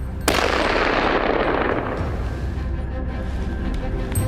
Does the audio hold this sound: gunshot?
yes